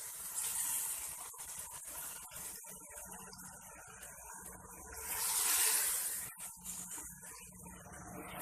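Masala with ginger garlic paste sizzles and hisses in a hot pan, a continuous frying crackle that swells into a louder hissing surge midway, then settles back.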